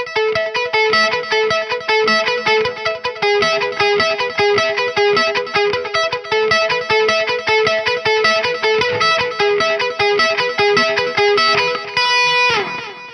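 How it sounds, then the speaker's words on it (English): Electric guitar riff played through a delay pedal on a Jackson Pro Surfcaster LM-87, a rhythmic repeating pattern with echoing trails and a slightly driven tone, loud and steady, ending in a sustained ringing chord. "I was messing around with the delay pedal. There's this kind of riff in the background"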